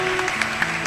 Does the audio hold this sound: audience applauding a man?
yes